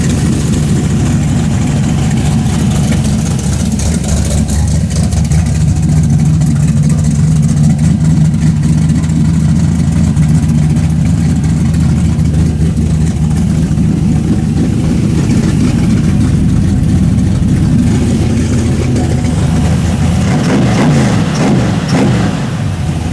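The swapped engine in a 1974 Chevy Nova rumbles loud and close at a steady idle for over twenty seconds, with a deep, throaty tone and slight throttle changes near the end.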